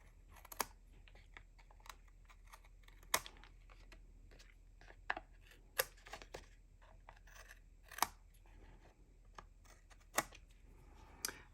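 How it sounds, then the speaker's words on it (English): Scissors snip excess paper hearts off the edge of a piece of embossed cardstock, a series of short, crisp cuts spaced a second or two apart, close by and quiet with no talking. "So I'm just going to trim off any excess hearts on the edge."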